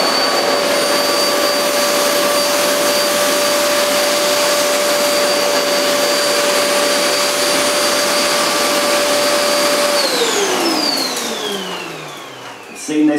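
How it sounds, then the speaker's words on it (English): Goblin GCV301W bagless cylinder vacuum cleaner running on a hard floor picking up flour, a loud steady whine with a constant tone that winds down in pitch as the motor switches off near the end. "So I'm going to pass the nozzle front and back, as I did upstairs with the carpet. And we'll see how well it does on the hard floor."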